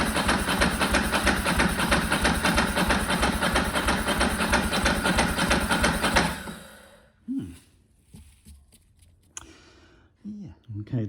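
A decade-dormant Ducati motorcycle engine being cranked by its starter, a loud fast rhythmic churning that runs steadily for about six seconds and then stops, followed by quieter clanks and mechanical handling.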